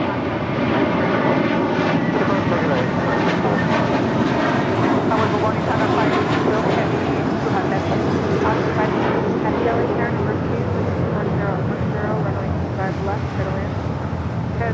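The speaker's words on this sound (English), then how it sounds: "Next departure, American Airlines, flight 4, heading to JFK in an A321" An American Airlines A321 jet departs LAX, its engine roar a loud, sustained broadband rush filling the whole stretch, with a voice talking over it.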